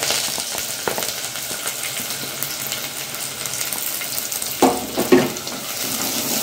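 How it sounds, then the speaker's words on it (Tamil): Onions and curry leaves hit hot oil after popping mustard seeds for a fish and brinjal kuzhambu, making a continuous crackling hiss with a brief clatter of stirring near the end. "கடுகு நல்லா பொறிஞ்சிச்சு, வெங்காயம் போட்டுக்கிறோம்."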